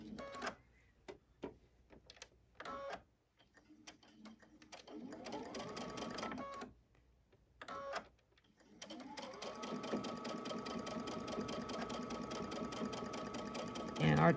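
A sewing machine stitches the other side of a bag in short bursts, then runs in a longer steady whir, with talking in the pauses between runs.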